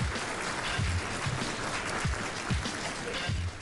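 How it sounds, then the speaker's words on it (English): A live radio show audience or studio applauds a special guest, a dense patter of clapping with a few louder hits, steady and moderately loud, and no voices clearly heard over it. "round of applause right now"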